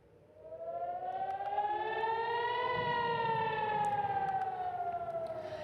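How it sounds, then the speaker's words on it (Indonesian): An air raid siren in Nahariya, Israel, wails, rising slowly in pitch and then gently falling, sustained and loud throughout with no voices. "Sirene pun terus berbunyi tanpa henti saat rudal memasuki langit kota Naharia."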